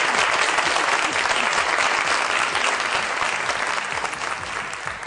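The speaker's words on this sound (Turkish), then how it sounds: "Bir alkış Ay alalım." Loud sustained applause from a large television studio audience, dense clapping that holds steady and tapers slightly at the end.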